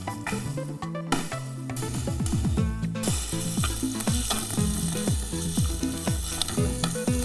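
Onions sizzle steadily in a pan as they fry for a gravy, with repeated stirring scrapes and utensil knocks giving a regular rhythm, close and fairly loud, with no one speaking.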